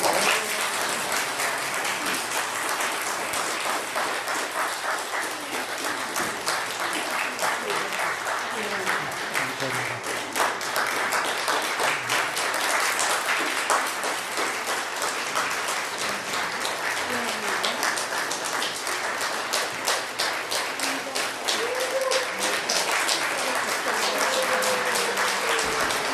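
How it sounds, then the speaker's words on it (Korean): A church congregation at a Sunday service applauds in sustained, dense clapping that continues steadily for about 26 seconds, with voices faintly audible beneath it. "박수 해주세요."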